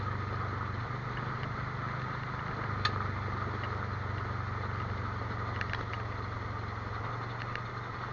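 A car crawls slowly along a forest road, its engine giving off a steady, low, unchanging hum at moderate distance, with a few faint clicks and no voices.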